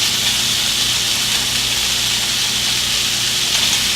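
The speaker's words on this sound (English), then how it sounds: "just crumble it up into the pan. And you hear it's already sizzling." Crumbled soft tofu sizzles in a hot pan, a steady, close, broadband hiss that holds evenly for the whole stretch with no talk over it.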